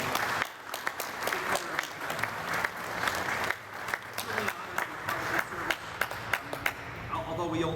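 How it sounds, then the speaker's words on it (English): An audience at a firefighter memorial ceremony claps steadily for the national anthem singer, a dense patter of many hands that holds at an even level throughout. "I don't think we clapped loud enough for her to be able to appreciate that"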